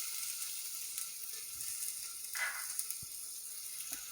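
Crushed garlic frying in hot oil while mutton soup is being made, giving a steady close sizzle with a brief louder hiss midway and a few faint stirring knocks.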